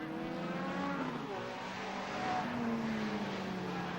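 Engines whine and rise in pitch as sports sedan race cars accelerate at a restart, their screaming tones sweeping upward at moderate distance, with faint crowd or commentary noise beneath.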